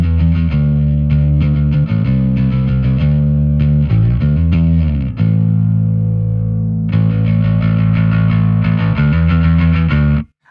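A bass guitar runs through a Microtubes 900 v2 bass distortion pedal, giving loud, gritty sustained notes played in a steady riff, with one brief dip before the tone returns fuller.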